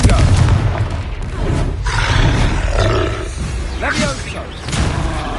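Confringo fire-blast spell in a wizard video game, a loud continuous roaring, booming barrage of explosions with whooshing bursts throughout, dense and close.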